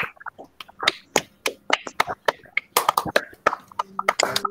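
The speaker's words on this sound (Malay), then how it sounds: "Bagi tepukan kepada diri sendiri" Primary school pupils in a Malay language lesson clap for themselves with scattered, uneven hand claps and snaps, mixed with brief voices and classroom chatter.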